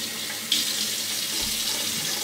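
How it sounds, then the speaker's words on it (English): Tap water running into a bathroom sink to rinse a Talbot shaving razor, a steady close splashing stream with a brief brighter gush as the flow shifts partway through. "Let's have a rinse."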